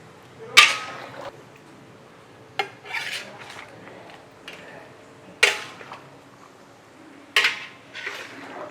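Chicken in butter sauce being stirred in a large pan for 210 portions, with several sharp metallic clanks of utensil on pan amid softer scraping.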